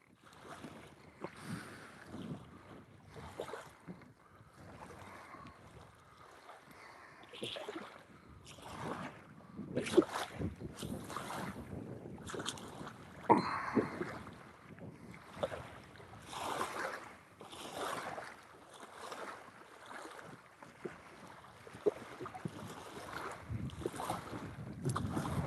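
Gusty wind buffets the microphone outdoors on open water during a catfish fishing trip, in uneven rushing bursts that rise and fall throughout, with no talking.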